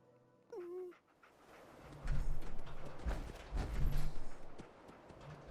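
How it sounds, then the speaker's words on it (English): A dog in Fallout 4 gives a brief whine, then heavy paw thumps and movement sounds follow over a quiet game background. "That is a tough looking dog."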